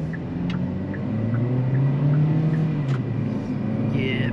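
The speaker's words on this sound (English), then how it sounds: "I can definitely hear the engine's working" A 2024 Kia Picanto with a 1.25-litre engine accelerates from inside the cabin, its engine drone rising and falling in pitch as it picks up speed, steady and moderately loud, with light road rumble underneath.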